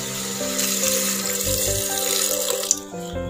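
Water pours steadily and closely onto dried peas soaked overnight, a continuous splashing stream lasting about three seconds before it tapers off.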